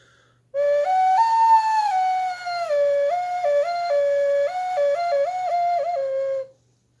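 A ceramic whistle plays a clear, pure tone that steps up and down between several pitches, bright and close, sounding alone for about six seconds.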